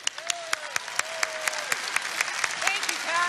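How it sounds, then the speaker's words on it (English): A large rally crowd in Cedar Rapids, Iowa applauds loudly and continuously, with sharp individual claps standing out near the microphone, while an announcer speaks over the noise. "Keep your applause going for the Honorable Pat Grassley"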